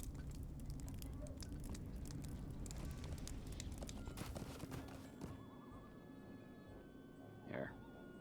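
Halloween horse mount in Lord of the Rings Online neighing, with steady hoof clip-clop and game ambience throughout and a short whinny near the end; a voice talks faintly underneath.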